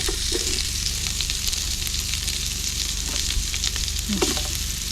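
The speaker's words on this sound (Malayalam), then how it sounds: "സവാള ഇട്ട് കൊടുക്കാം" Onions sizzling in hot oil in a pan with curry leaves for tomato rice, a steady close frying hiss with light stirring scrapes throughout, no talking.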